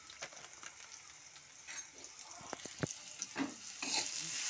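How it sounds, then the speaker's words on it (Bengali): Chili powder goes into a frying fenugreek greens dal, bringing a soft, close sizzle with a run of stirring scrapes and light taps in the pan that grows slightly louder toward the end. "আমরা গুঁড়ো মরিচ দিয়ে দিচ্ছি।"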